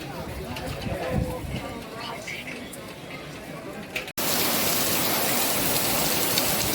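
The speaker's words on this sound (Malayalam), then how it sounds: "മുംബൈയിൽ നല്ല മഴ" Heavy monsoon rain pouring down steadily over a large market in Mumbai, with a voice talking under it early on, then the downpour swelling to a loud, dense roar.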